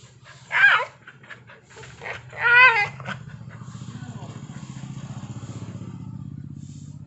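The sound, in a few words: dog whining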